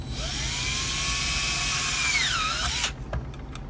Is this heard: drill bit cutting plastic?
yes